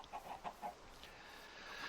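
Chickens cluck on a farm in a video game: a quick run of four or five soft, short clucks early on, faint and fairly distant, then a low steady background hum.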